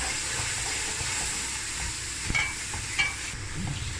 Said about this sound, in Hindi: अब सारे मसालों को करेंगे मिक्स।